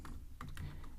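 Python code is typed on a computer keyboard, a short close run of quick soft key clicks at an uneven rhythm.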